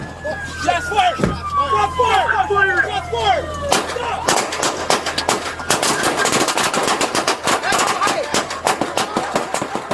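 Rapid bursts of gunfire from police officers firing back at a suspect after a car crash, loud sharp cracks repeating densely through the second half, following a stretch of radio-like chatter with tonal sweeps.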